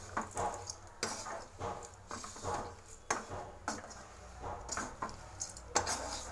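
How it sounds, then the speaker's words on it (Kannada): Flattened rice (avalakki) being stirred and dry-roasted in a pan, with a steady run of utensil scrapes and clinks against the metal every half second or so, close and moderately loud, with no talking. "ಸೊ ಎಲ್ಲ ರೋಸ್ಟ್ ಆಗಬೇಕು ಕ್ರಿಸ್ಪಿ ಎಲ್ಲ ಆಗುತ್ತೆ"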